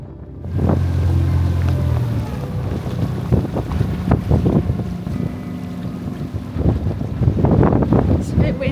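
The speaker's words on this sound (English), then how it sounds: "To say the least, it's a bit windy." Strong wind buffets a small boat out on the water, roaring steadily across the microphone with gusts and occasional thumps and rattles, while waves slap nearby.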